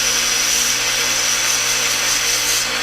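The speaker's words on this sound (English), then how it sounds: "So I'm just going to lightly sand this and come back over and check again." An arrow shaft is lightly sanded by hand to shave off a grain or so of weight during elk-hunting arrow setup, giving a steady, close, even rubbing hiss that runs without a break.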